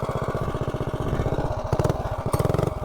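Predator Ghost go-kart engine with a Fire 265 cam and PC carb on a top speed run, a loud, steady high-revving single-cylinder buzz with a rapid pulsing rhythm throughout, no talk.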